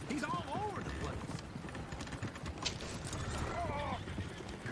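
Horses in the video game Red Dead Redemption 2, with continuous hoof clip-clop and a couple of brief whinnies mixed into busy game sound while voices talk over it.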